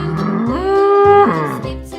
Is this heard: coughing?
no